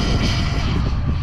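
Arrma Kraton EXB 6S V2 RC car at full throttle on a speed run, giving a loud, continuous rushing motor and drivetrain whir with wind noise throughout a brief burst.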